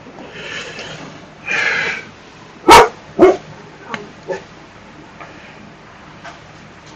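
A small dog barking in a room, a few sharp yaps and short bursts of whining scattered across the stretch, fairly close, with quiet background between barks.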